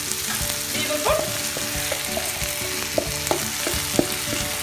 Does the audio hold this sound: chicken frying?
yes